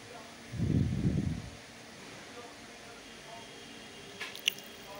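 Water is poured into a pan of thin Bengali katla fish curry with potato and bitter gourd, a short close splashing gush under a second long, followed by quiet background and a few faint clicks.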